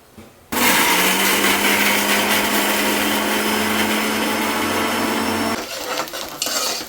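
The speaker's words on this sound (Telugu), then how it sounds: "నేనైతే ఒక 10-12 పచ్చిమిర్చి మిక్సీ పట్టేసుకుంటున్నాను." A mixer grinder whirs loudly and steadily for about five seconds as it grinds ten to twelve green chillies, starting abruptly and then winding down into faint clatter.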